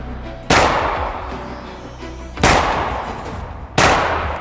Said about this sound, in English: There's 3 shots.